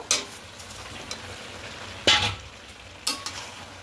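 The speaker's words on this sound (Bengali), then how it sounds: "খুব ভালো করে মিশিয়ে নেব সবকিছু" A spoon scrapes through chicken biryani as fried potatoes are stirred into it in a pot, with three distinct close scraping strokes spaced about a second apart over a faint, steady background sizzle.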